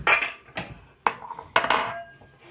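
A bowl taken out from among dishes in a home kitchen: a few sharp ceramic clinks and knocks spaced irregularly, close and moderately loud, with short ringing tails.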